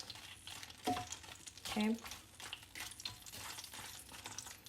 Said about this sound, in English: So what we're doing right here is we're frying the chiles for a better flavor for them.